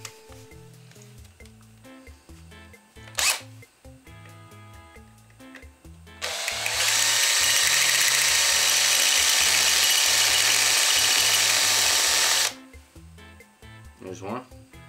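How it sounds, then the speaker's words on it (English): A drill with a 3/16-inch bit bores out the timing cover rivets on a Buell XB12S motorcycle, a loud steady whine lasting about six seconds mid-clip, bracketed by quieter clicks and handling noises before and after. "We're gonna pop these rivets off this timing cover."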